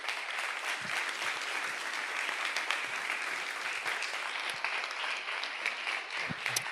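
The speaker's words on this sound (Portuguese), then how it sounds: "Vamos aplaudir o nosso Deus" A church congregation applauds God at the close of a prayer service, a fairly soft, even wash of clapping that carries on steadily for several seconds without any voices over it.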